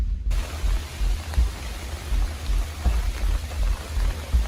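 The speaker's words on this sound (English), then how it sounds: "So it's starting to rain" Steady rain falls outdoors in the wilderness, a dense continuous patter with a low rumbling undertone and no voices.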